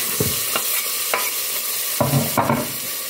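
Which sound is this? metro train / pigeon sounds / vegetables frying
vegetables frying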